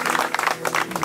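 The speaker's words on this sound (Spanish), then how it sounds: "Ponerse de pie todos los invitados y darle un aplauso a Cristo." Guests standing at a church wedding clap for Christ, a short burst of fairly close, uneven hand claps with a low hum beneath.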